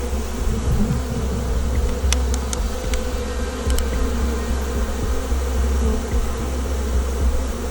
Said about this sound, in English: we're gonna try to get the rest of the bees in here